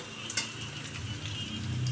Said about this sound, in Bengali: এবার শুকনো লঙ্কা আর পাঁচফোড়ন দিয়ে দেব